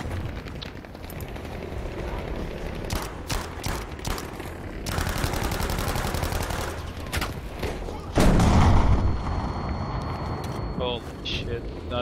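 Video game gunfire in a battlefield match, bursts of rattling shots and booms under near-constant talk from players, with a loud blast rising midway.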